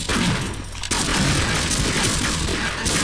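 Dense, sustained gunfire from Half-Life 1 fills the moment, a loud wash of overlapping shots and booms with a brief drop in intensity before the barrage resumes.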